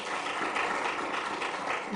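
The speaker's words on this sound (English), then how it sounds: "A round of applause for him again." Audience applause for a speaker at a Ghanaian public event, a steady, moderately distant wash of clapping that holds evenly throughout.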